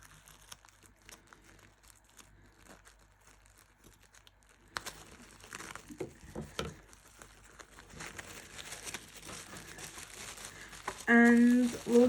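A plastic-wrapped jewellery kit package is cut open and unwrapped, with close crinkling and tearing of plastic that grows busier in the second half, ending in a brief louder rustle.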